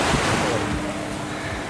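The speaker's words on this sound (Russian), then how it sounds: "Волны большие." Sea waves and surf roll steadily at a windsurfing spot in Pattaya, Thailand, a continuous loud wash of water with wind buffeting the microphone.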